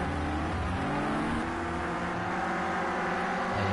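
A Clio Cup race car in Project CARS 2 drones with a steady, buzzing engine note as the throttle is feathered, harmonics wavering slightly, heard alone without talk.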